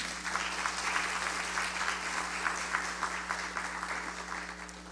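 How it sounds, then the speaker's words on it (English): Steady applause from a crowd, continuous clapping at an even level for the full length, with no voices over it. "Could we give a round of applause again?"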